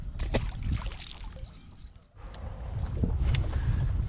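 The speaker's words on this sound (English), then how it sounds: "that wind's cutting through these pants and stuff now" Wind on a small lake buffeting a microphone on a fishing boat, a steady low rumble with gusts, a brief lull midway, and faint water movement.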